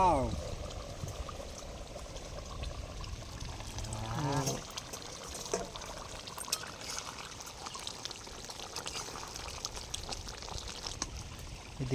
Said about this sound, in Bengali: তো বান্টি ভাই এদিকে চাল ধুয়ে নিচ্ছে